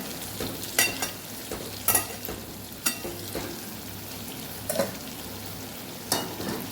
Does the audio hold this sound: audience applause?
no